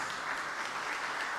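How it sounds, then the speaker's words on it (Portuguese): A church congregation applauds during a Sunday morning service, a steady wash of many hands clapping at a moderate distance, brief and without voices. "E os homens, vamos aplaudir elas, amém? Bem forte"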